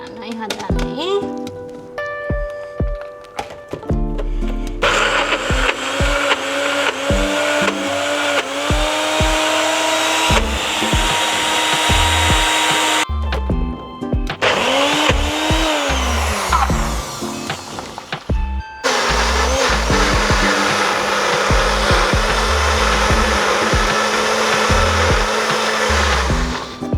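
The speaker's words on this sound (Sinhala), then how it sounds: "දැන් අපි බ්ලෙන්ඩ් කරමු." A blender grinds soaked lentils with garlic for dhal pakoda in loud, continuous bursts with brief pauses and restarts, a voice speaking at times between and over the motor.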